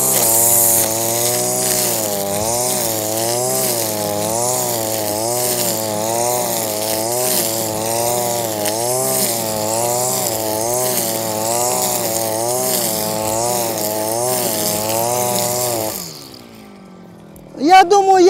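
A ZimAni 143R-II petrol grass trimmer runs loudly at steady high revs with a wavering engine whine, then cuts out near the end.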